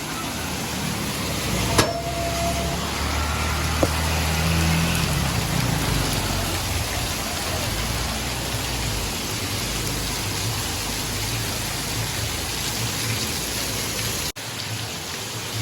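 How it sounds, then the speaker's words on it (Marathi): Very heavy monsoon rain pours outside a home, a loud, unbroken hiss of downpour with water running off the road, a couple of brief knocks early on. "खूप म्हणजे खूप म्हणजे खूप पाऊस आहे"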